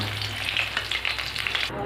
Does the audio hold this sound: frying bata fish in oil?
yes